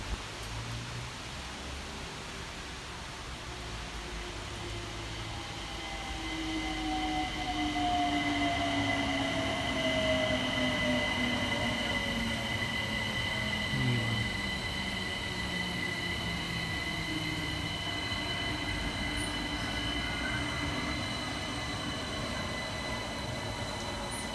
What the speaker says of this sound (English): Arriving next into the station will be 378 136, working the 1300 London Overground service from Highbury and Islington through to West Croydon.